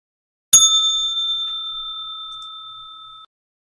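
A single bright bell ding rings out once, then its clear tone lingers and fades slowly into silence.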